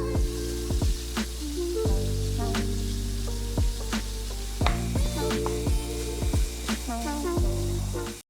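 Beef mince browning in a frying pan for chilli con carne, a steady close sizzle with sharp repeated clicks and scrapes of a utensil stirring against the pan.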